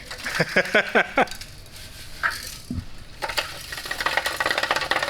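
Loose broken catalytic converter debris rattles and pours inside a Honda exhaust like a rain stick, a run of close, sharp clattering bursts followed by a denser, steadier rushing patter.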